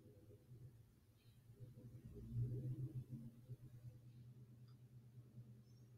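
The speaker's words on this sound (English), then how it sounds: "Let me wait for the engine to go by." Car with loud exhaust driving by, a faint low engine rumble that swells for a couple of seconds as it passes and then recedes into the distance.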